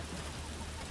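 Steady rain hisses in the video game Fable II, a dense, even wash of noise at low level with no distinct events.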